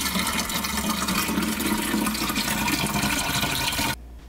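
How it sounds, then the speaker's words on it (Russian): Water pours steadily into the tank of a Polaris PUH 9105 IQ Home air humidifier, a continuous close splashing fill that runs for about four seconds, then cuts off abruptly. "С нижней стороны вот сюда вот заливается водичка."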